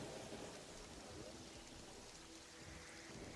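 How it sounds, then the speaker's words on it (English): Faint, steady hiss of rainfall in Terraria, a continuous wash of soft patter with no other sounds. "Sorry about the rain."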